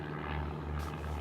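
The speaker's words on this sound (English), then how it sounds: "Airplane." A light propeller plane drones steadily near a small regional airport, a faint, even hum with no voices over it.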